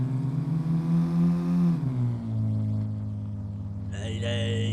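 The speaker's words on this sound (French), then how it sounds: "Il a le bruit d'une voiture de course, ce machin." A Citroën car engine revs high like a race car, a loud droning whine that sustains, dips in pitch, and holds at a lower steady tone, with a brighter tone cutting in near the end.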